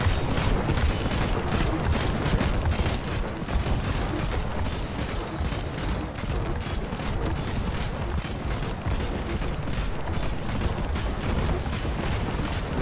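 Cannon fire in the building game Trailmakers, a dense, continuous barrage of booming shots and explosions that rumbles steadily throughout with no pauses.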